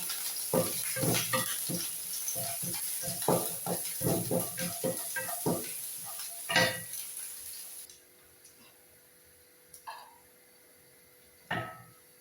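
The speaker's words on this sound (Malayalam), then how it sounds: "വെളുത്തുള്ളി ഇഞ്ചി ചതച്ച് ഇട്ട് കൊടുത്ത് ഇളക്കുകയാണ്" Crushed garlic and ginger sizzling in a pan while being stirred, with a soft frying hiss beneath frequent spoon clatter and scrapes that thin out into occasional knocks near the end.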